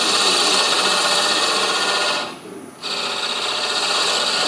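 Woodturning tool cutting into spinning wood on a lathe while squaring a shoulder, a loud continuous rasping hiss with a brief dip as the tool lifts off, then the cut resumes.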